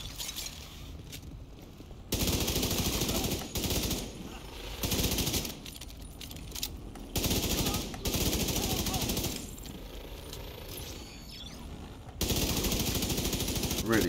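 Assault rifle gunfire in The Division 2, loud close bursts of rapid automatic fire broken by short pauses, with a voice speaking in the gaps.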